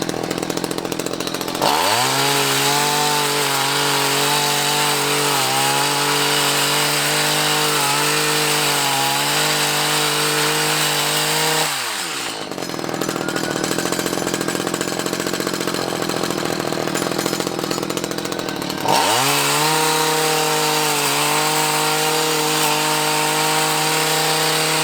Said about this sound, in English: I have my trusty hedge cutter, and we are about to cut all of this back